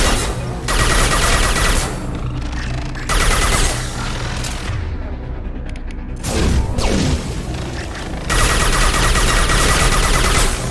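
Hacked turret fire in the video game Mass Effect 2: loud, sustained bursts of rapid gunfire and booms, broken by brief quieter gaps, with several separate volleys in a row.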